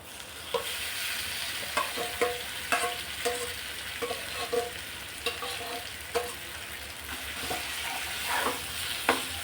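Mashed roasted eggplant pulp is stirred with turmeric in a pan, giving a soft, steady sizzle and a rhythmic series of spatula scrapes and taps, close and moderately loud.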